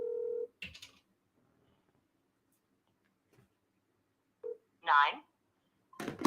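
A telephone number is dialled, with a few short, separate tones spread across a quiet stretch, clear and close, and a voice briefly heard between them.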